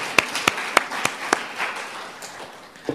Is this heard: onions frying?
no